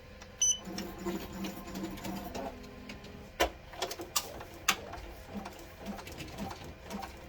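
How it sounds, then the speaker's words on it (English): A Ricoma EM1010 embroidery machine stitching slowly, giving soft uneven clicks and mechanical taps at close range, quiet overall with a few sharper knocks. "See, it's sewing really slow."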